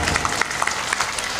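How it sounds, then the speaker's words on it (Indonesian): Applause from a crowd gathered at a large Islamic dhikr and manaqib assembly in Kosambi, brief scattered clapping that sounds thin and somewhat distant over a continuous background hum. "Tepuk tangan semuanya."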